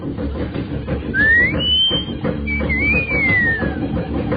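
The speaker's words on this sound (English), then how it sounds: "I'll give her the wolf whistle." A two-part wolf whistle, a rising note then a long falling one, cutting over a noisy crowd of chatter and commotion.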